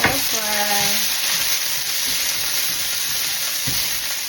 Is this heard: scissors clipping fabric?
no